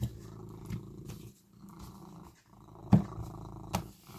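A pet cat purring on someone's lap during a card game, a soft continuous low rumble running through most of the moment, with a couple of brief louder bumps near the end.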